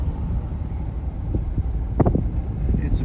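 Gusty wind buffeting a microphone during a drive past cotton fields near Woodsboro, Texas, a low, blustery roar with a few sharper bumps, no voices.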